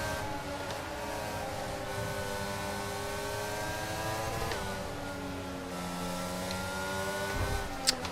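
A Formula 1 race car in the video game F1 22 at the British GP accelerates with a steady, whining engine tone that climbs through the gears, moderately loud and continuous with brief shift breaks, no talk.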